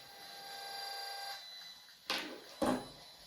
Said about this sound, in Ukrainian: Активуємо режим акустозав'язки і ми чуємо відповідно звук даного протоколу передачі.